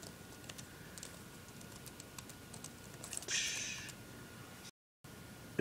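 Typing on an HP Mini laptop keyboard at a login screen: a faint, steady patter of small key clicks running through the clip, with a slightly louder burst near the middle and a brief dropout near the end.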